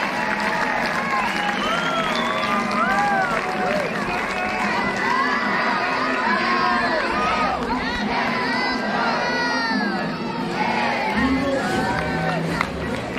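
A sold-out crowd at a college softball doubleheader cheers loudly as the home team scores runs, with children shouting and whistles in a dense, continuous roar that holds steady for the whole stretch.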